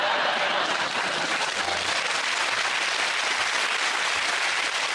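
A studio audience at a comedy panel show applauds loudly, a thick continuous roar of clapping that holds at full strength for several seconds without any talk breaking through.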